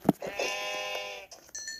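A Minecraft sheep gives a single short, nasal bleat, close and clear, followed by brief game sound effects.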